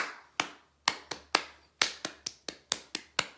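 Eleven sharp body-percussion hits, claps, pats and snaps, close and fairly loud, in an uneven rhythmic pattern with no talking, as in a third-grade music lesson.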